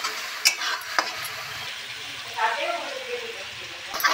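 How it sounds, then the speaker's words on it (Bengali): Chili powder and ground spices fry and are stirred in oil for a jackfruit curry, a steady close sizzle with a few sharp utensil scrapes and clinks against the pan. "মশলাটা ভাজা হচ্ছে।"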